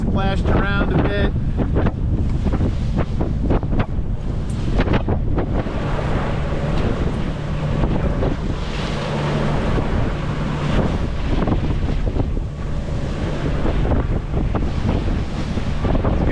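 Strong wind buffets the microphone on a sailboat at sea in about 18 knots of wind and lumpy seas, with waves splashing against the hull in a continuous loud rush.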